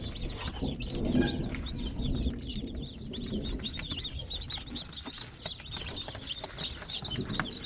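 Newly hatched chicks from an incubator chirp in quick, high, repeated peeps, a small cluster of birds close by, with faint room noise behind them.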